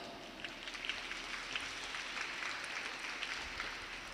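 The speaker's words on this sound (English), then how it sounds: "Give a huge round of applause." A crowd claps steadily, a dense patter of applause at moderate distance with no voices over it.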